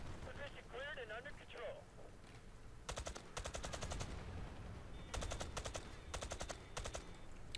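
Bursts of automatic gunfire in the online shooter Battlefield Play4Free, two loud volleys of rapid shots in quick succession with a brief voice-like tone early on and game ambience throughout.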